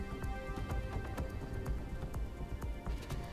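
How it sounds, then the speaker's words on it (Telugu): Heavy night-time rain in Anantapur, a dense steady patter of drops on surfaces with sharp individual splashes, fairly close and alone without voices. "అనంతపురం జిల్లాలో రాత్రి భారీ వర్షం కురిసింది."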